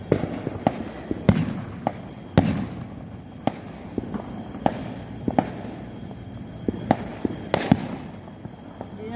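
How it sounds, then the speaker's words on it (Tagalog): Sharp firework bangs and firecracker pops crack out irregularly at a New Year's Eve gathering, a dozen or so distinct reports, some near and loud, others more distant, over a background murmur. "pwede siya nga fireworks"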